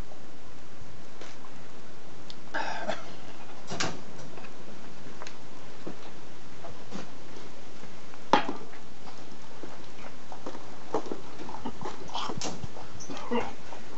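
A sheepdog whimpers and gives short yips, close by over a steady outdoor background, with occasional ticking clicks in between.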